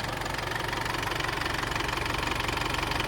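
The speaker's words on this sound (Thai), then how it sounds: "ก็ยังทำงานปกติเหมือนเดิม ไม่มีไอ นะครับ รถทำงานนิ่งๆเหมือนเดิมเลย" Isuzu D-Max Hi-Lander 2.5 VGS pickup from 2013 with automatic gearbox, its diesel engine idling steadily with an even rhythmic clatter, close and loud with no voices.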